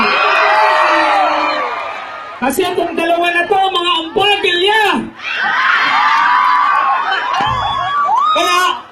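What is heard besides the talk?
crowd cheering and shouting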